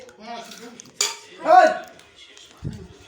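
Dishes and cutlery clink and scrape close by during a home meal, with scattered metallic taps and a louder clatter midway, and faint voices in the background.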